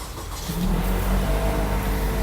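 A 2017 Toyota Camry engine turns over and catches, then settles into a steady, loud running hum as it revs up close by.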